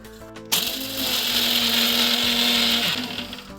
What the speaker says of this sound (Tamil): மூணுத்தையும் நல்லா அரைச்சி பவுடர் பண்ணி எடுத்துக்க வேண்டியதான்